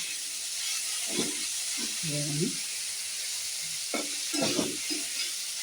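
Spices and tomato fry in a pan with a constant hissing sizzle and soft stirring scrapes, while a voice talks briefly over the cooking.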